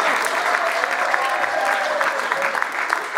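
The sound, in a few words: audience applauding for the mothers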